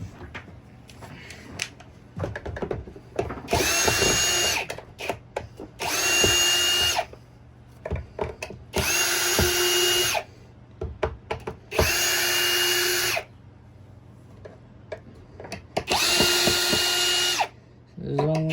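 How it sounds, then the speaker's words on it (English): A cordless power drill backs screws out of the underside of a Eureka AirSpeed vacuum in five loud, close bursts of high whine, each a second or two long. Clicks, handling noise and occasional talk fill the gaps between bursts. "start removing all the screws on the bottom"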